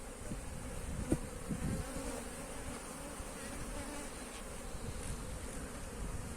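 A dense, continuous hum of many honeybees buzzing around an open hive fills the scene, steady and close with occasional individual bees droning past, no voices over it.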